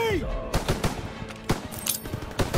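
Machine gun fire in Call of Duty: World War 2 during a D-Day beach landing: rapid bursts of close, loud automatic shots mixed with battle sounds and a shouting voice.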